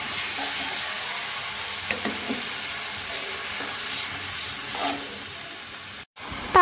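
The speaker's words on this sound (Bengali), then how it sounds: "এখন আমি এটাকে ভালো মতো নেড়ে চেড়ে তারপরে পেঁয়াজ বাটা দিয়ে দিচ্ছি" Ground spices frying in a pan and being stirred, a steady hissing sizzle with soft scrapes and clinks, a brief dropout near the end followed by a louder burst.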